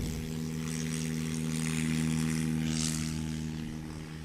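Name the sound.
Piper Cherokee model airplane taking off with flaps down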